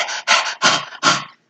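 A narrator's voice imitates a watchdog loudly puffing and panting, four close, breathy bursts in quick rhythm.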